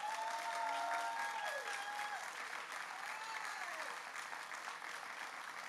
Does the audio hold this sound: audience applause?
yes